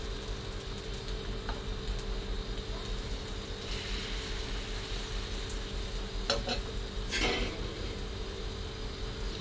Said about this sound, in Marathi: इथं बेसन पोळ्या टाकून घेऊया.